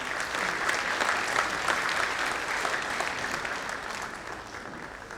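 Sustained applause from an audience at an award ceremony honouring a chemical engineering professor, dense and steady throughout, gradually thinning slightly toward the end with no talk over it.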